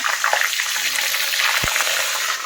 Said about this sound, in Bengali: এখানে হচ্ছে মাংসের আলু ভাজা